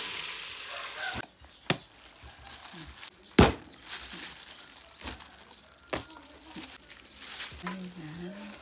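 Chicken stir-fried in a pan for a northern Thai winter-melon chicken curry, a steady sizzle and frying hiss with scraping stirs and a few sharp clatters, under intermittent talk.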